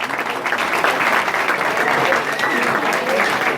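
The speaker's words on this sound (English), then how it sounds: "Round of applause for Nicola" Sustained audience applause at a retirement celebration for Mike Catapanos, steady and dense for the whole stretch, with voices and cheers mixed into the clapping crowd.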